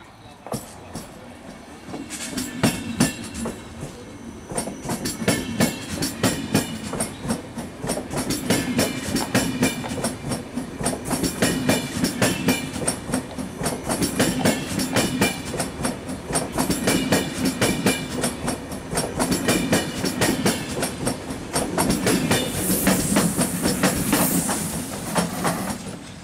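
Railjet 570 train departing Pardubice main station, a steady loud rolling rumble with rapid clickety-clack of wheels over rail joints building as it pulls away, ending with a faint high squeal.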